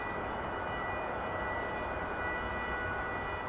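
An airliner taxis out toward the runways at DFW Airport for departure, its distant engines a steady broadband roar that holds without change throughout.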